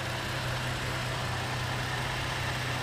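A 2008 Chevy Malibu's 3.6 liter V6 idles with a steady, even hum and low drone, constant and close throughout with no talking.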